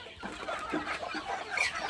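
Native chickens in a shed with fifty-plus birds cluck softly while eating grass feed, a faint, close cluster of short clucks and rustling.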